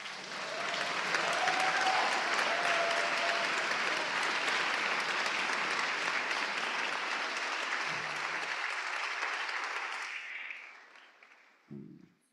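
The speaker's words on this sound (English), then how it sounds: "give Jack another round of applause" Sustained applause from a gathered crowd at a memorial for transgender and gender-nonconforming lives lost, steady and full for about ten seconds before tapering off, with a brief low bump at the end.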